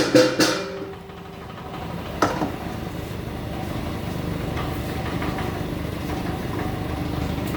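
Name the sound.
atta chakki flour mill machine grinding grain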